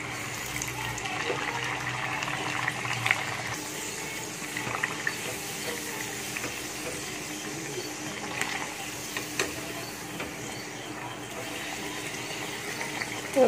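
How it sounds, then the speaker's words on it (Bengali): A puri fries in hot oil, a continuous, even sizzle and bubbling heard close up, with faint pops scattered through it. "তেল আমার গরম হয়ে গেছে। এখানে আমি পুরিটা ছেড়ে দিচ্ছি।"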